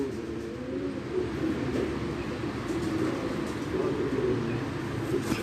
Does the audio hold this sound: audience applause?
no